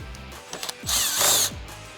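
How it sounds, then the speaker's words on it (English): Power driver spinning out a 5mm screw holding the front bumper on a 2018-2022 Ford Mustang GT, a short high whir preceded by small clicks, close and fairly loud. "we're going to remove our 2 end screws that hold the bumper on. They're 5mm."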